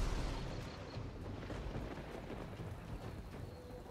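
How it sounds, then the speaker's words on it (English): Steady rain falls in the fantasy role-playing game Divinity Original Sin 2, a dense, even hiss with a low rumble underneath, constant and fairly loud for the whole stretch with no voices. "rain out there."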